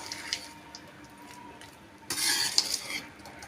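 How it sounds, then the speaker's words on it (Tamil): Lemon rice is mixed in a pot with a metal spoon, giving soft scraping at first and then louder, busier clinks and rubbing against the pot toward the end, with no voices. "நீங்கள் சாதம் கலரும் பொழுது கொஞ்சம் பொறுமையாக கலக்கி விடுங்க."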